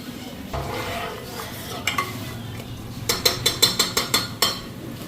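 Ghee with cardamom and garam masala powder sizzles in a pot, then a spoon stirs it with a quick run of loud metallic scrapes and knocks against the pot over the steady frying hiss, with no talking.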